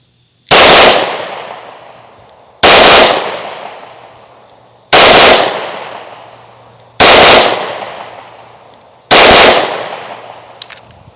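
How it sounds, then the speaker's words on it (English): Five loud, sharp pistol shots from a Hellcat Pro Comp or Shield Plus Carry Comp at an outdoor range, evenly spaced about two seconds apart, each a close, heavy crack with a ringing decay. "We are going to double tap 10 or double tap more rounds in there and see how we do as far as accuracy"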